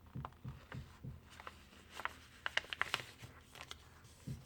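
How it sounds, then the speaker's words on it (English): A sheet of paper being creased and folded for a paper airplane: soft rubbing and crinkling with a few sharp crisp taps, close and quiet, no talking. "Next step, let's fold this part of the paper toward the center."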